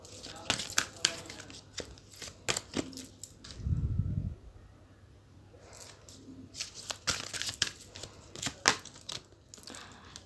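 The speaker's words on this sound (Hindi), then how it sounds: "पहले कार्ड शफल कर लेते हैं।" Tarot cards being shuffled by hand, a run of crisp flicking, riffling and rustling bursts close to the mic, with a brief low thump partway through and quiet talk nearby.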